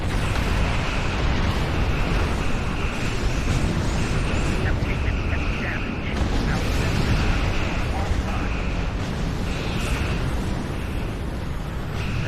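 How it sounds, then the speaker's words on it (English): A huge, sustained explosion rumbles through a Star Trek Online cutscene, a dense roar of blast and debris that holds loud and steady for the whole stretch, with a voice partly buried beneath it. "That's a big explosion."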